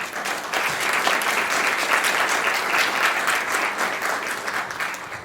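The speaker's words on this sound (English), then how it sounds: "a quick round of applause for both of these gentlemen" A room full of people at an election forum debate claps steadily in a dense, sustained round of applause that fades slightly at the end.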